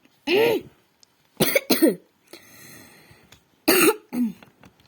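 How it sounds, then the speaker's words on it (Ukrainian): Several harsh coughs in short bursts, two quick ones together, separated by quiet pauses and faint breathy noise, close to the listener. "я тут трошки розкашлялася, тому може в цьому відео буде кашель та хрипіння"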